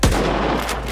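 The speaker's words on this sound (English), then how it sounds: "your gunshot would sound like this" A single loud, punchy gunshot from the video game Stalker 2, with a booming low-end thump and a brief trailing rumble.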